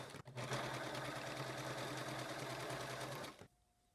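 Sewing machine stitching around a machine-knitted robot puppet head, a loud, continuous close-up whir of fast stitching lasting over three seconds before stopping abruptly.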